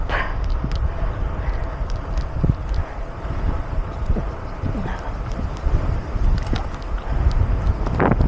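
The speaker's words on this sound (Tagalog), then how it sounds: "Lakas ng hangin, no?" Strong, steady wind buffets the microphone during a gravel cycling ride in Batangas City, a continuous low roar with gusts throughout; a few faint sounds rise above it.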